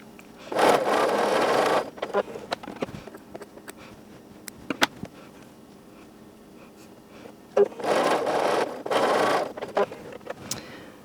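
A sewing machine runs in two short bursts while quilt seams are stitched across their intersections, with a quiet stretch of faint handling noises in between.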